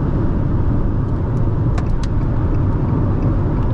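A car cruises at speed on a road in its top gear of a nine-speed gearbox, giving a steady loud droning of engine and tire roar with a few brief faint clicks and no talk.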